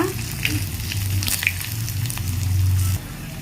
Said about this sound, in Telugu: ఎండుమిర్చి అలాగే మూడు చిన్నులపాయలు ఇలా దంచి పెట్టుకున్నాను వీటిని కొంచెం సేపు వేయించుకున్నాక